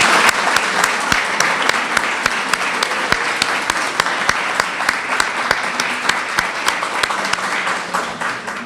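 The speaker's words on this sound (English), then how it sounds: "Let's give them all a round of applause." An audience applauds the seven essay award winners at an awards ceremony, a steady dense round of clapping that holds at full strength, close and loud, without pause.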